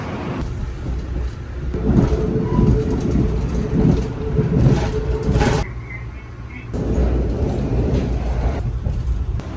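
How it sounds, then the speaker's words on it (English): Amtrak passenger train travelling from New York to Washington, a steady rumble and rattle of the coach interior with rushing wind noise, briefly dropping quieter midway as if passing through a tunnel or slowing, then resuming. "Amtrak train, very comfortable journey."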